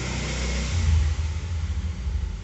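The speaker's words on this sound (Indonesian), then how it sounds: "Ada suara motor." A motorbike passes outside a room where a math lesson is under way, giving a short low engine rumble that swells and then pulses unevenly as it goes by.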